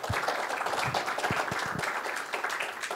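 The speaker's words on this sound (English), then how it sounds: "A round of applause" An audience at a talk on post-quantum cryptography applauds the speaker, giving fairly quiet, continuous clapping with a few distinct claps standing out near the start.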